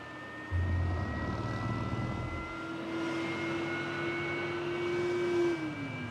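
Su-27 jet engine idling after start-up in the DCS World flight simulator, a steady droning hum with a rising tone that settles and holds, continuous and fairly close, no talk.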